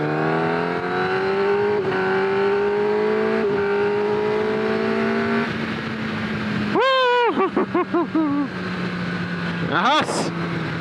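Kawasaki ZX10R sport motorcycle cruising in third gear at roughly 4,500 rpm, its steady engine drone running under continuous wind and road rumble, with a brief rising rev partway through and a person talking over the ride.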